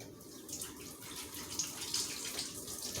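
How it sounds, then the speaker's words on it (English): Hands are rinsed clean of sticky ricotta whey under a running kitchen tap, a steady, fairly loud rush of water splashing continuously for the whole stretch. "excuse me while I rinse my hands"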